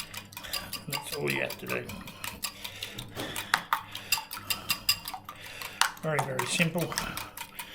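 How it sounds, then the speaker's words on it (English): A whisk clatters quickly against a bowl as a tofu mixture is beaten, with rapid rhythmic metallic ticks close by, under and between a man's speech. "Just whisk him up."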